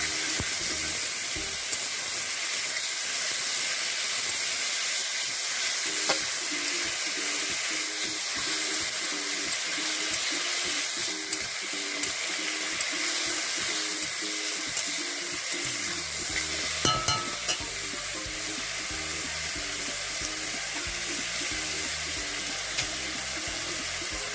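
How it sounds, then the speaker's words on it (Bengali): Mung dal being fried in oil with five-spice seeds and whole chillies for vegetable khichuri, a constant close hiss and sizzle with watery bubbling undertones and a brief stir or clatter partway through. "এবার আমি এতে মুগ কলাইগুলোকে ভেজে নেবো তেলের সাথে"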